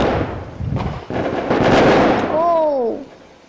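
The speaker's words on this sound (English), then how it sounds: "Oh, it's like real fireworks." Fireworks and firecrackers burst in a loud, rapid barrage of cracks and booms, followed by a rising whistling streak near the end.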